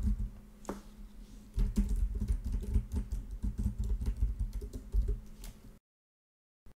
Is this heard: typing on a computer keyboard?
yes